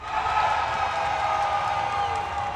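An esports crowd at the Marvel Rivals IGNITE Grand Finals main stage cheers loudly and steadily, a dense sustained roar of many voices filling the arena throughout.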